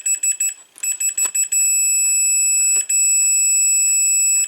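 A multimeter checks continuity across the fuse of a T-Fal 4-slice toaster: a few short beeps, then a sustained high-pitched continuity tone that breaks briefly and resumes, loud and close, with no talking.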